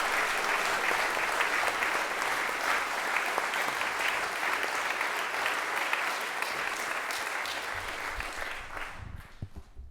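Sustained applause from an audience at a school headmaster's gathering and athletic colours ceremony, loud and steady for most of the stretch before trailing off quickly at the end.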